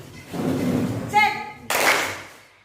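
A teacher's voice in a ninth-grade classroom at SMP N 2 Belitang is followed by a sudden, loud burst of many students clapping together in a classroom clap game, dense and close.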